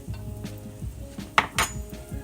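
Butter and minced garlic going into a nonstick pan, with brief clinks and scrapes of utensils against cookware and a faint soft sizzle beneath, in short separate bursts.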